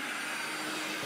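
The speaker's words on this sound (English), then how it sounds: "So now I can compare the noise level of these two vacuum cleaners." A Kenmore cordless vacuum cleaner runs on its low power mode, giving a steady, close, even motor whine and airflow hiss with no pauses.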